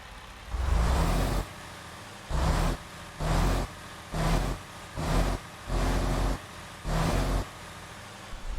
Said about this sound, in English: Alright, this is the integrated powertrain DD13.